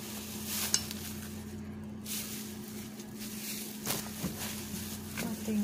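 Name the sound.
stirring sticky rice with ube condensed milk and ginger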